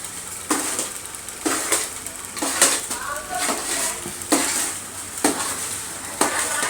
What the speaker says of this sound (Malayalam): ഇതെന്തിനാ ഇങ്ങനെ ഇളക്കുന്നത്? അടിയിൽ പറ്റാണ്ടിരിക്കാൻ.